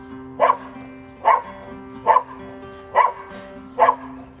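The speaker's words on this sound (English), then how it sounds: "gonna bark as long as she can see that dog" A dog barks five times at a steady, evenly spaced rhythm, each bark sharp and fairly loud, close by and with no talk over it.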